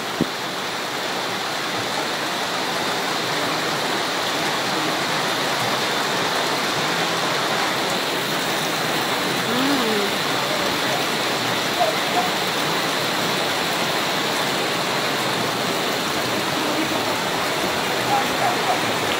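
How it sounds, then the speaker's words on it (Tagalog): Steady rain falls on a rainy afternoon, a dense continuous hiss lasting throughout at even loudness, with faint voices now and then beneath it. "Ang ulan."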